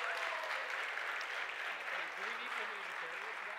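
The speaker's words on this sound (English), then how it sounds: "Let's give these guys a round of applause." Sustained applause from a church congregation at a Sunday morning worship service, steady dense clapping filling the whole stretch with a faint voice briefly audible underneath.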